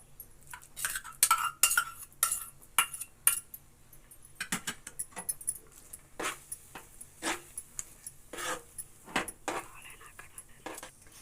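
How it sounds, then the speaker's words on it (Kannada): Banana pieces dropped into kesaribath in a kitchen pan and stirred, with repeated metallic spoon scrapes and clinks against the pan in irregular bursts, close and moderately loud. "ಇವಾಗ ನಾನು ಬಾಳೆಹಣ್ಣು ಹಾಕ್ತಿದ್ದೀನಿ"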